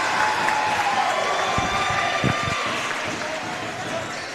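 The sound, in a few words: basketball crowd cheering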